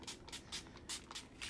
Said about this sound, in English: I'm just going to spray a little bit of water